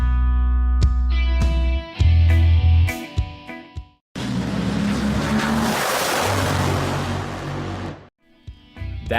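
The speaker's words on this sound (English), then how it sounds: "That was a top fuel dragster accelerating 300 miles per hour in just 4 seconds" A top fuel dragster launching and accelerating, first an engine rumble with tonal whine, then a loud, roaring broadband blast for several seconds before it cuts off, close and dominant.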